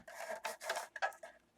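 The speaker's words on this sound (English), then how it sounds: "I'm just going to trim a band for the top and the bottom" Scissors snip and rasp through a thin band of gold paper, a handful of short close cutting strokes in quick succession with no talking.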